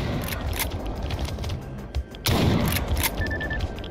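Gunfire in S.T.A.L.K.E.R. GAMMA, a shotgun fight with several sharp blasts in quick succession, one heavier boom near the middle, over a busy rumbling background.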